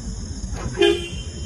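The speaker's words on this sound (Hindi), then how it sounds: "फिर वो जो कार है उसका हॉर्न ब्लो किसने किया था?" A short car horn toot sounds once over a low background rumble, brief and moderately loud.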